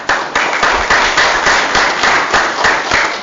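Applause from the audience at a Mission, Texas city council meeting, a dense steady patter of many hands clapping at full volume throughout with no voices.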